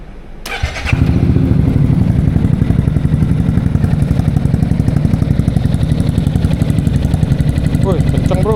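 A ProSpeed scooter engine starts abruptly and runs loud and close, holding a rapid, even pulsing exhaust note that stays steady to the end; voices are faintly audible.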